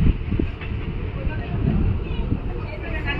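Bareilly-Indore Weekly Express passenger train running, a steady loud low rumble of wheels and carriages with faint rattling throughout, heard from on board.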